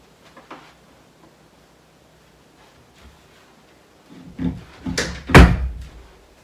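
A door is pushed shut on a tea towel draped over its top edge at home, giving a few close thuds and a final solid slam after a quiet stretch.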